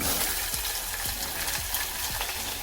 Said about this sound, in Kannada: ಈಗ ಇದಕ್ಕೆ ಈರುಳ್ಳಿನ ಕಟ್ ಮಾಡ್ಕೊಂಡಿರುವಂಥ ಈರುಳ್ಳಿನ ಹಾಕೋತೀನಿ